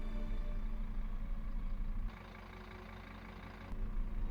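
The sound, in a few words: tractor engine starting in Farming Simulator 25 video game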